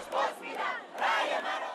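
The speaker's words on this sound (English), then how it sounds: "Making a noise opposite the Iranian embassy in London, this young crowd of protesters" A young crowd of Iranian protesters shouts outside the Iranian embassy in London, two loud surging waves of massed voices, each swelling and then holding steady.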